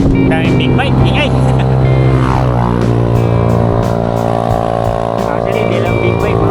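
Many big motorcycles roar along a mountain road in the Sierra Madre near Tanay, Rizal, loud and close, one engine sweeping past with a rising then falling pitch as the others drone on, while people talk over the noise.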